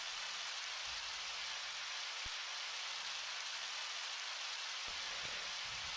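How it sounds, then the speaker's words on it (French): Steady, hissing rain in the video game Undertale pours continuously at a low level, with a couple of faint thumps underneath. "Comment il pleut d'ailleurs, vu qu'on est sous terre?"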